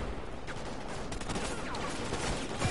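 Rapid gunfire crackles through a Call of Duty Ghosts match, with bursts of automatic shots and sharp reports layered over busy in-game noise, continuous and close.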